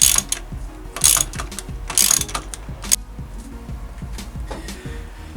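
Ratchet turning a 6mm socket on the suspension forks of a 1994 Raleigh Activator 2 mountain bike, close rapid pawl clicking in bursts with sharp metallic ticks about once a second, no talking.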